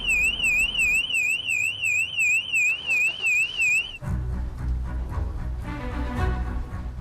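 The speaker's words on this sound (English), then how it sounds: "The alarm keeps going off." An electronic alarm wails loudly with a rapid rising-and-falling warble for about four seconds, then cuts off, leaving busier room noise and clatter behind.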